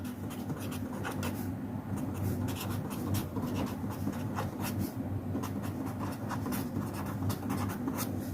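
Pen or pencil writing out a partial-fraction equation by hand, a steady dense scratching that runs continuously for the whole stretch, close and fairly loud with no pauses.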